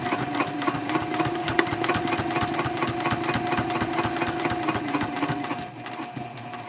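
Sewing machine stitching a seam through the exterior fabric of a shopping bag, a steady rapid needle clatter running evenly before easing slightly near the end.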